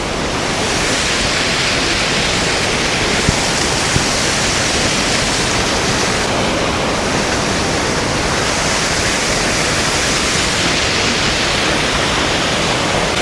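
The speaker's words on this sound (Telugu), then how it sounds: "దారి పొడుగుతో వాటర్ ఫాల్సే." Waterfalls and rushing streams along the rainy Kedarnath trek in the Himalaya make a loud, constant roar of falling water that fills the whole stretch without a break.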